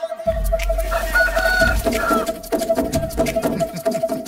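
A rooster at a village cockfight clucks and gives short crowing calls, fairly close, over a steady background tone, with busy fluttering activity through most of the stretch.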